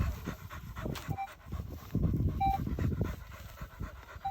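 Dog panting close by in quick rhythmic breaths, with a few faint beeps from a metal detector in the background and no talk.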